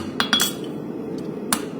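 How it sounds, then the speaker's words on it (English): The toe of a hammer strikes a Mustad horseshoe to straighten an onion heel, making sharp metallic ringing taps: three quick hits in a cluster, then a single strike a second later. "So I'm using the toe of the hammer, and that just straightens that heel."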